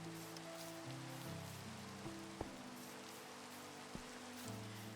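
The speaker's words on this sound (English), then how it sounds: "It's raining lovely." Rain falls at night in the Minecraft video game as a soft, continuous hiss, quiet and even, under steady low tones, with a couple of brief clicks.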